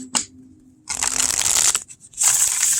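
Tarot cards with a matte, velvety finish shuffled by hand: a brief riffle, then two longer, close, crisp papery rustling bursts with a short pause between them.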